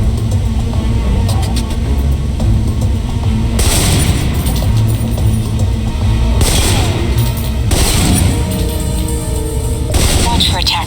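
Assault rifle fire in the spy action game Alpha Protocol comes in several loud bursts of rapid shots separated by stretches of ambient game noise, with a voice briefly heard.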